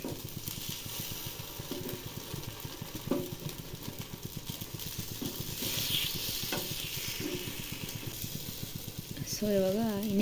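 Food fries in a pan and is stirred with a fork, giving a steady low sizzle with scraping stirs, under light background noise near the end.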